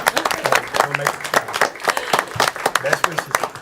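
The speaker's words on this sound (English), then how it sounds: "I feel like I need to give a little clap" A small group at an online meeting claps briefly, a patter of quick, uneven hand claps near the mic mixed with talking voices throughout.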